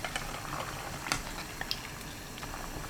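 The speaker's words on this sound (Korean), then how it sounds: "두부 넣고 삶아주세요." Tofu simmers in a pot of boiling water salted with coarse salt, giving a soft, steady bubbling hiss broken by faint pops and ticks, heard close up with no talking.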